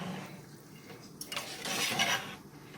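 Rice being stirred in a pot for chicken biryani, a few soft scraping and clinking strokes of a utensil against metal with light watery sloshing, close and fairly quiet.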